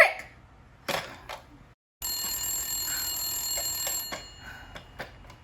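An old-fashioned telephone rings on and on in a quiet room, a steady sustained bell tone with a short break before it resumes.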